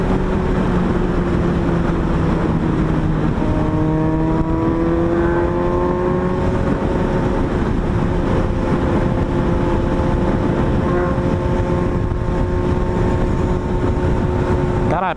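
Suzuki GSX-S750 motorcycle engine while riding, a steady loud drone with shifting harmonic tones as revs rise and settle, continuous road and wind roar throughout.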